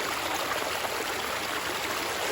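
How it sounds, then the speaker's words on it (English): Spring-fed water trickles and rushes steadily down a ravine along the St. Croix River, a constant close, loud wash of flowing water with no pauses and no voices. "Got some spring fed water coming down the ravine here, straight from the ground."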